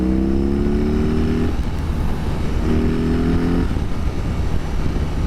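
A 2021 BMW R 18 motorcycle's big boxer engine gives a loud, deep, steady rumble up close while riding, with two rising revving swells, no voices over it.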